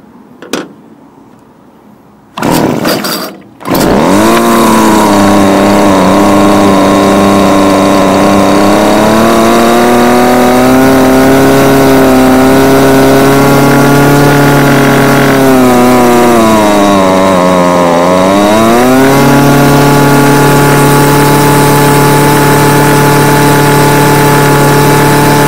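Homelite UT20042A weed wacker, a two-stroke string trimmer that wouldn't start before a carburetor replacement, runs with a loud buzzing drone after a few sputtering pulls, holding high revs, then dipping briefly and climbing back up.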